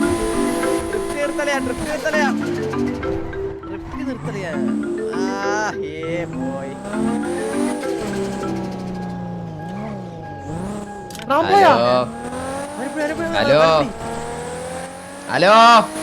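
Cars drifting and racing in a drag-race roleplay video game, with sweeping engine revs, whining pitch glides and tire noise over a steady background hum, loud and continuous under overlapping voices.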